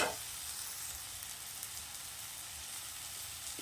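Brinjal frying in hot oil for a curry, a dense crackling sizzle holding steady and fairly close throughout.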